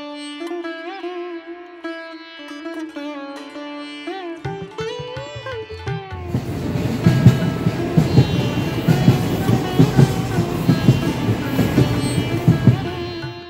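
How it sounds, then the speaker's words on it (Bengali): A train pulls out of Asansol station. Sustained tonal music plays first, then a loud, dense rail rumble with rhythmic clattering takes over and continues to the end. "আসানসোল স্টেশন থেকে সময় মেনেই ট্রেন ছাড়ল।"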